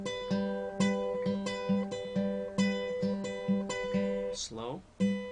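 Acoustic guitar picks the fingerstyle introduction to a song, a steady train of plucked notes over a repeating bass thumb, with a brief string slide near the end; played alone, close and clear.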